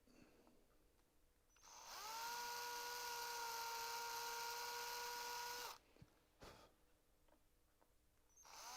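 A power drill bores a small screw hole for a hinge on a wooden dovetailed puzzle box, whining steadily at close range for about four seconds before stopping, with a few light knocks afterward.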